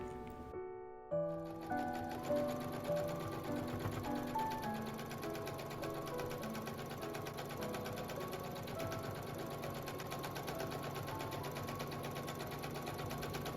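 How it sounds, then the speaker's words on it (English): A sewing machine stitches around the edges of a cotton sundress, a steady, fast mechanical whir and clatter close by, running almost continuously after a brief pause at the start. "Sew around about the edges."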